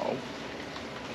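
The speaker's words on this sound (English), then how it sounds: "here we are, the next day, and it is raining." Steady rain pattering on and around a campsite shelter in flooding rain at a state park, a constant close hiss with no talk.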